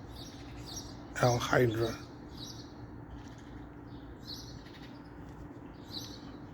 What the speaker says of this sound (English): I'm just standing there listening to my bird.